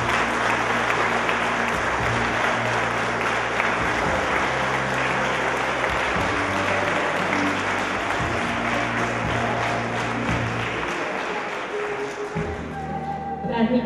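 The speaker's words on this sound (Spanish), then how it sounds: "Fuerte el aplauso para ella, Silvana Gruzzi." Sustained applause from an audience at an award ceremony honouring role models, steady dense clapping over a low rumble that runs unbroken for the whole stretch before thinning near the end.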